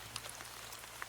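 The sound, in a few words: steady rain outside, audiobook sound effect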